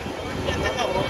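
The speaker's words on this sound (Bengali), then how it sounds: "কি বাতাস।" Strong wind buffets the microphone while riding a motorbike on a road, a loud continuous rushing roar with no pauses.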